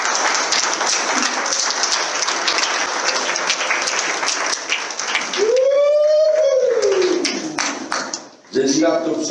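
A church congregation applauds steadily, a thick wash of clapping that runs for several seconds, then a voice rises in a long sung or shouted call over it before a brief break and more voices.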